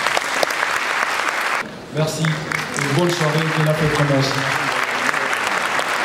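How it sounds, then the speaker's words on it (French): Crowd applause at the 2019 Mali awards ceremony for performer Abou Dité, steady clapping that continues beneath someone speaking French over it. "je vous prie d'applaudir pour Abou Dité"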